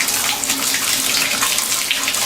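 Water running steadily from an American Standard bathtub faucet, a close, bright hiss and splash that continues without a break.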